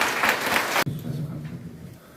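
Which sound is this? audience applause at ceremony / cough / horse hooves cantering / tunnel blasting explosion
audience applause at ceremony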